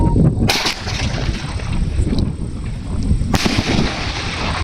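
A 1.5 inch pipe firework shell goes off with two sharp, loud bangs about three seconds apart, each leaving a crackling, rumbling tail as it bursts in the sky.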